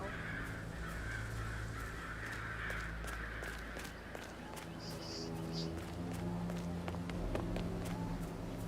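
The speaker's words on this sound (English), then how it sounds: "It's birds. They're making a racket, drop things everywhere." Crows caw harshly and repeatedly in a video game, their calls rising over a busy, continuous backdrop of game ambience with voices.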